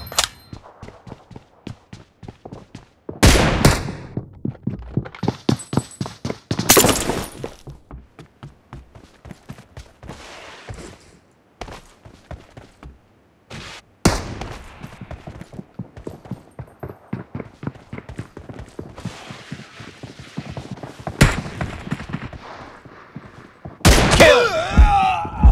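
Gunfire in the battle royale game PUBG: repeated sharp shots and rapid bursts, some loud and close, scattered irregularly across the whole stretch with quieter gaps between them.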